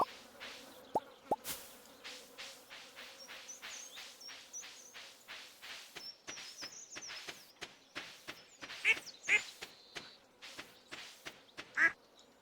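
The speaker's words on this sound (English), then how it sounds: "Where is the duck I need to see?" Ducks quack in the Stardew Valley farming game, a run of short bright calls repeating through the clip over soft steady game ambience, alone with no talk.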